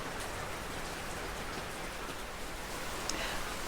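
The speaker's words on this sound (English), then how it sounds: "I don't know if you can see the rain coming down, but it's gotten a lot bigger drops, and it's coming down pretty good right now" Heavy outdoor rain with big drops, a dense, steady hiss of rainfall on surfaces, constant and even throughout with no voices.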